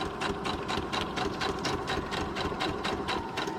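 A sewing machine stitches around a cut-out figure on paper, giving a fast, even run of mechanical pulses with a light rattle. It is close and steady for the whole stretch, with no talk.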